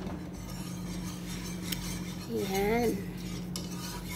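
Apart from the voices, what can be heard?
stirring a cornstarch mixture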